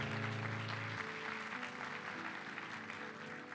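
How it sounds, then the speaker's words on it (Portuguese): A church congregation applauds in sustained, dense clapping that fills the whole stretch at a steady level, with sustained musical tones running underneath. "Aplauda Jesus."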